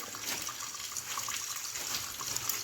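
Tap water running steadily into a sink while raw meat is washed clean for marinating, a soft continuous splashing stream heard close by without talk.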